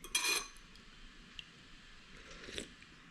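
A spoon stirs mutton soup in a bowl, giving a quick burst of clinking scrapes near the start and then a faint, brief clink later, close and quiet with no talking.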